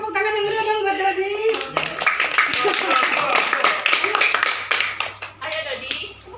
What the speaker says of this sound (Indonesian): kasih tepuk tangan yang meriah dong buat Dodi